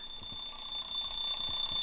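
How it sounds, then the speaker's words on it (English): A retro alarm clock rings loud and close, its continuous bright metallic tone buzzing with a rapid pulsing flutter throughout, no voices over it. "We have a retro alarm."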